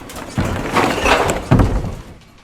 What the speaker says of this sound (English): Trucks collecting our glass and cardboard and PET bottles